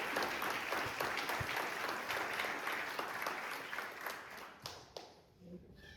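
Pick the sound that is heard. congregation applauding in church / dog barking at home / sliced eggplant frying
congregation applauding in church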